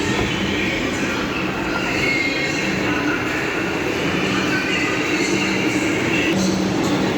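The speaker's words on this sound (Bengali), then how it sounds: "মেট্রো খুবই তাড়াতাড়ি আসছে" A metro train pulls into a station, a steady loud rumble of wheels and carriage noise with faint rail squeal, continuous throughout.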